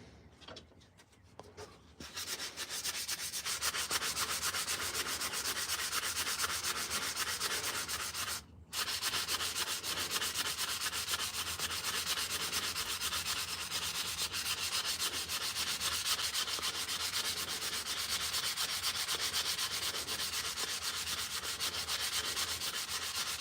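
A carved wooden spoon is hand sanded to round its edges, giving steady, close, raspy rubbing that runs almost continuously after a quiet start and breaks off once briefly partway through.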